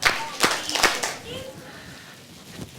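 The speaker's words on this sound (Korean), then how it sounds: "박수 3번 시작." A group of children at a church gathering claps three times in unison, quick sharp claps close together, followed by a pause with faint voices.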